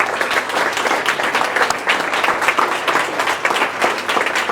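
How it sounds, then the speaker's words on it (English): Sustained audience applause fills a conference hall during a Python lightning-talk event, dense steady clapping from a crowd at moderate loudness throughout, with no speech over it. "I would say to give him a round of applause."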